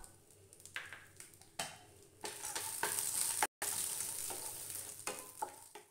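Cashew pieces frying and being stirred in hot ghee, a continuous sizzle with scraping spoon strokes, close and steady, with one brief cut in the middle.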